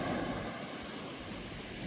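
Soft, steady surf from a cold sea rolling onto the shore in the evening, faint and continuous with no voices.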